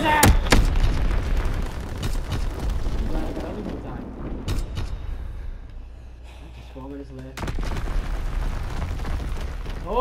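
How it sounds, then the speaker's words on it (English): Bomb explosions in Call of Duty WWII, heavy booms and bursts rumbling through a busy game mix of gunfire and effects, with a lull before another loud stretch of action. "All the bomb noises and gun sounds and stuff is in the background sound real."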